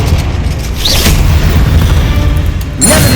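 A Confringo spell bursts in Hogwarts Legacy with a heavy, booming blast, followed by a rumbling tail and a second sharp explosive hit near the end, loud and close.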